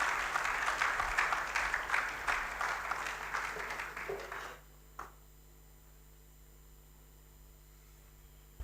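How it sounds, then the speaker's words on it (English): Audience applause at an International Customs Day event, a steady patter of many hands clapping for about four seconds before fading out to near silence, with one faint clap after. "I'm sure we can give the Honorable Minister for State Finance another resounding applause"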